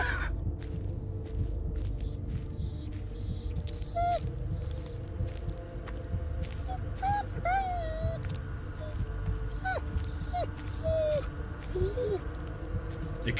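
In the horror game Blair Witch, a dog lets out a series of thin, high whimpers and whines, short wavering cries scattered over a low, murky ambient background.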